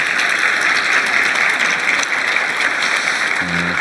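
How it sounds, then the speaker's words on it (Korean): A large audience at a formal government industrial-policy event claps in steady, dense applause that fills the room for a few seconds without a break before fading, with no speech over it. "박수 한번 주십시오."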